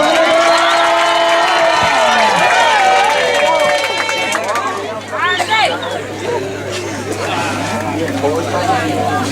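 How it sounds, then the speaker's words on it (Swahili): A wedding crowd cheers and calls out with high ululating cries over a loud, babbling hubbub, with voices singing and talking and a steady low hum underneath. "Makofi kwa Bwana Yesu."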